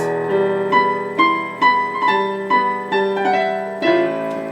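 Solo piano plays a short phrase from a song in single notes and simple chords without octaves, each struck clearly with a steady, moderate rhythm and ringing decay.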